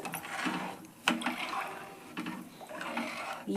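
Water is poured into a pot of washed rice for khara pongal, heard as close splashing, gurgling surges that come in short repeated bursts.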